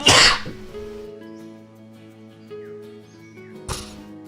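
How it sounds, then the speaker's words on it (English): A single sharp sneeze bursts out loud and close at the start, followed by a soft snort a few seconds later over quiet background music. "I gotta sneeze."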